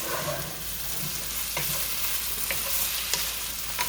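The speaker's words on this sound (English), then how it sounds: "Now I'm going to give this a good stir." Pancetta drippings frying in a pan while being stirred, a steady close sizzle with a few soft scrapes and taps of the utensil.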